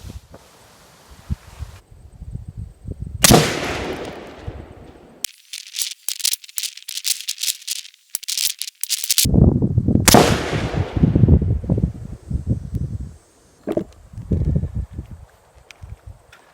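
Several sharp gunshots from a PSA 10.5-inch AR pistol with a cold, freshly cleaned barrel, loud and close, spaced apart with broadband cracks and decaying echoes, among rustling and handling noise between shots.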